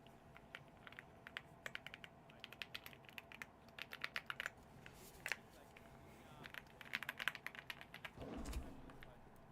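A streamer's computer keyboard being typed on in a dark room, irregular bursts of crisp, close clicks with short pauses between flurries, ending in a slightly louder rustle.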